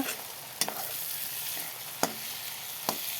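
Broad beans and fish oil cooking in a pan, giving a steady soft sizzle with a few faint clinks of stirring, close by and quiet, no talking.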